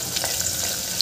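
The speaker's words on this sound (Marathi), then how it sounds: "मी कांदा छान शिजवून घेते" Chopped onion frying in a pan while being cooked down for a Vidarbha-style dal bhaji, giving a steady close hiss of sizzling for about a second with no voices.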